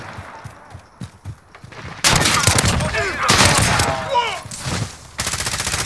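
Pistol shots ring out in Call of Duty: Modern Warfare on the Shoot House map, with quiet game sounds at first and then a loud burst of rapid gunfire and in-game voice chatter.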